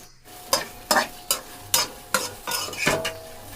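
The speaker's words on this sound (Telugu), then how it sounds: "ఇలా కట్ చేసి పెట్టుకున్న బెండకాయ ముక్కల్ని ఫ్రై చేసుకోవాలండి" Cut okra pieces fry in a pan for a mango and okra curry, a steady sizzle broken by about seven sharp scraping stirs of a spoon, close and fairly loud, with no talking.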